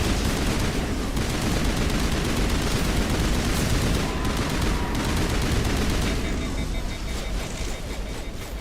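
Dense, sustained gunfire in the video game Mass Effect, a loud continuous barrage of shots with battle noise filling the whole stretch and no pause.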